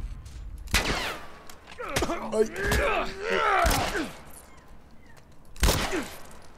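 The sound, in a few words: gunshots in a video game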